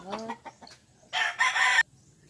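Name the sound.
chickens clucking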